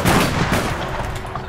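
Sniper rifle gunshot in the video game APB Reloaded, a single loud, close blast with a sharp attack and a long rolling decay.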